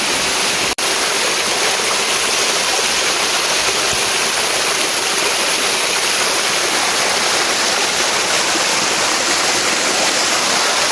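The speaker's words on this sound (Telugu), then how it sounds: "ఇంకా వాటర్ ఫాల్స్ మీకు ఒక చిన్న క్లిప్ పెడతా చూడండి." The waterfall at Ananthagiri Hills roars loud and close, a dense, unbroken rush of falling water with one brief click near the start and no voices.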